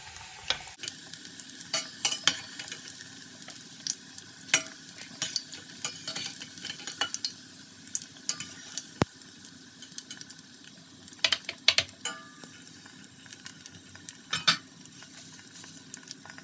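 Oil crackles and sizzles steadily as stuffed meatballs (içli köfte) fry, with frequent light scraping and clinking from stirring utensils close by.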